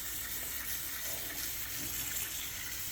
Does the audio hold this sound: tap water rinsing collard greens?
yes